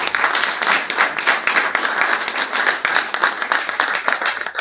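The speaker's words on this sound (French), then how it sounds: "Si vous voulez bien les applaudir." Audience at a morning conference on digital technology and building sobriety in Pays de la Loire applauding, a steady dense wash of clapping from many hands filling the room, without talk.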